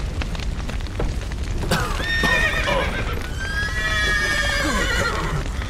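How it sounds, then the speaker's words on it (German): Horses in The Witcher 3 whinny loudly and repeatedly over the rapid clip-clop of galloping hooves. A dull rumble sits beneath the calls, and no one talks over them. "Die Pferde! Lass sie raus!"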